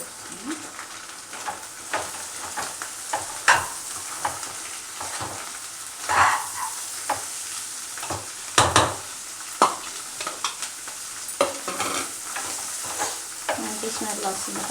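Broad beans (chikkudu) fry in a hot pan with eggs for an Andhra dish, giving a steady close sizzle broken by repeated scraping stirs and spatula clinks.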